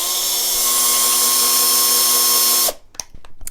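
A drill bit whines steadily as it bores out the inside of a carrot to make a flute, one loud continuous run that cuts off near the end, followed by a few faint knocks and handling sounds.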